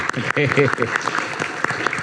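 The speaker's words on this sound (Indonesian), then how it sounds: "Kita tepuk tangan" An audience applauds as the academic Rocky Gerung is greeted at a televised political discussion. The brief clapping is mixed with a host's voice talking over it.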